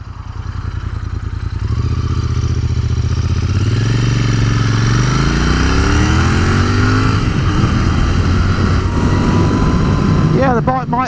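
A Royal Enfield Continental GT 650 with its stock exhaust rides close by, idling and then revving up through rising engine pitches, shifting gears with a steady throbbing note that fills the clip.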